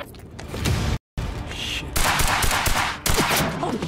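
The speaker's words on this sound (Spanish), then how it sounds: "Dispararon." Rapid gunfire bursts crackle loud and close in the action game Quantum Break, dense volleys with a brief silent gap and shifting intensity throughout.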